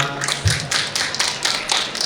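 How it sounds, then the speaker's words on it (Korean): An audience at a rural-stay seminar during the Y-FARM EXPO 2026 applauds to welcome a speaker to the stage, with scattered, moderately faint hand claps that continue in uneven bursts. "여러분들의 뜨거운 박수로 모셔보도록 하겠습니다"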